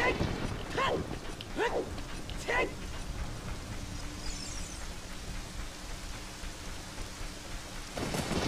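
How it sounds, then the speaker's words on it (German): Steady rain hisses through a stormy scene in The Legend of Zelda: Ocarina of Time, a constant wash with a few sharper swooshes early on and a rumbling swell near the end. "Ja, es regnet."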